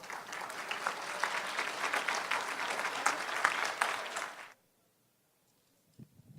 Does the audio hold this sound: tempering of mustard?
no